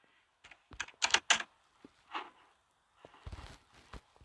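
A computer keyboard is typed on close by in a few short clusters of sharp clicking keystrokes separated by pauses, quiet and with no talking.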